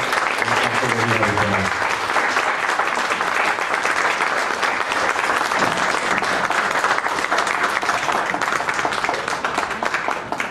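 A seminar audience at a school breaks into sustained applause, loud and dense clapping from many people with a brief voice at the start.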